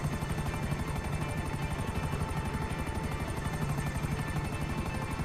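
Helicopter in GTA V Online, a loud, close rotor chop beating in a fast, even rhythm throughout, with a constant engine whine underneath and no talking.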